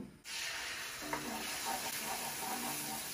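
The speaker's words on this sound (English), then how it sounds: "Now, the first ingredient to go in is your egg." An egg fries in about a tablespoon of hot oil in a wok. A steady, close sizzle starts abruptly and holds, with soft crackles and faint clinks over it.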